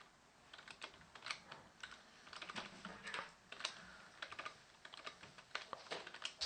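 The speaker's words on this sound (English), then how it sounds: "My keyboard's acting up." Rapid clicking keystrokes on a computer keyboard, close and clear, come in irregular bursts with short pauses while someone writes Python code; no voices are present.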